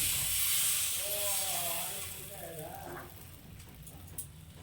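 Patishapta batter on a hot tawa giving off a soft hiss that fades as it settles, faint and close, with a voice speaking briefly over it.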